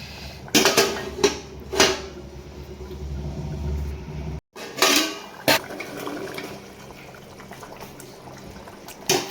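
An egg curry with dried shrimp is stirred in an uncovered pot: a few sharp clanks of the utensil against the metal rim sit over a low, steady background rumble, close by.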